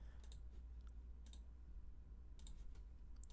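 Sharp, quiet mouse clicks in clusters of two or three while operating video editing software, close and alone over a low steady hum.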